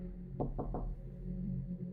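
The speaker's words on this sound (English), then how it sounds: "then someone knocked on my door" Knocking on an apartment door at night, three firm raps in quick succession, close and clear over a low steady room hum, with no voices.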